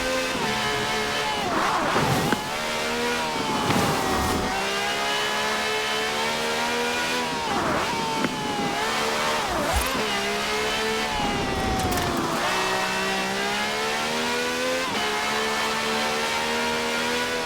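A V12 engine of over 750 horsepower in a wide-body cab car in Forza Horizon 4 revs loudly and continuously, surging through repeated rising and falling sweeps across the whole stretch.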